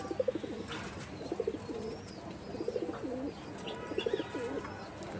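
Soft, repeated cooing of pigeons on a rooftop in short rhythmic phrases, several calls in a row against a low background hum.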